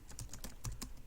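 Rapid keystrokes on a computer keyboard while working in an Excel spreadsheet, irregular quiet clicks close to the microphone, no talking.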